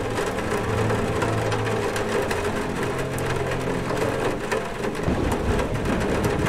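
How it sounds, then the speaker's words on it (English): Steady rain in the video game Metro Exodus patters continuously with a low rumble underneath, a dense, even wash of sound with no voices. "Hear a little bit of the rain."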